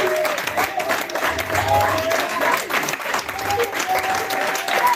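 A church congregation applauds in sustained, dense clapping that fills the whole moment, with a voice speaking over the crowd.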